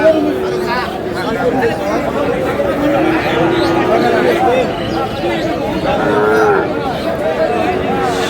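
Busy livestock market where Shahiwal-breed bulls and other cattle are traded, with constant crowd chatter and haggling voices filling the scene and occasional cattle sounds mixed into the steady babble.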